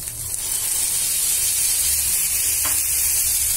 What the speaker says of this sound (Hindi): अब हम इसमें ये टमाटर का पेस्ट डाल देंगे